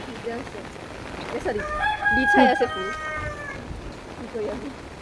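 A rooster crows once, a long drawn-out harmonic call rising and holding, fairly close, with faint background voices and clucking around it, on a rainy day.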